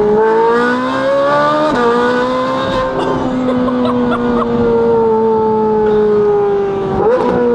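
A loud, harmonically rich Ferrari 458 Italia V8 with a full IPE exhaust idles then climbs in pitch as the throttle is blipped, with a sharp exhaust crackle near the end.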